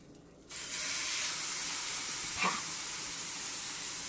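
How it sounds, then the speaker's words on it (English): A steady, loud sizzle of a burger frying in hot peanut oil starts abruptly after a brief quiet moment and hisses on without a break. "we should hear that nice sizzle"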